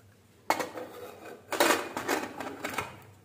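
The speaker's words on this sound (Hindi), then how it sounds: "पानी मिलाने के बाद हम कुकर का ढक्कन लगा देंगे" Metal lid fitted onto a pressure cooker of wheat khichda with water added, giving a sharp clank followed by a louder cluster of metallic rattles and scrapes, close and alone without talk.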